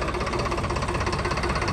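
A tractor engine runs at a steady idle while the tractor is unloaded from a trolley, with a close, continuous diesel knock and fast, even pulsing.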